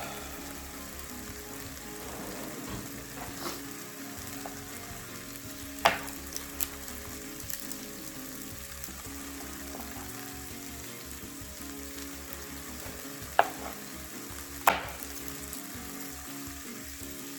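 Garlic fries in a pan with a continuous crackling sizzle, broken by a few sharp clicks and scrapes as it is stirred now and then.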